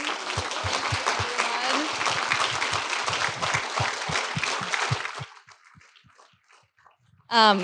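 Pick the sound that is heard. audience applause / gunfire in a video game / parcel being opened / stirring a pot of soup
audience applause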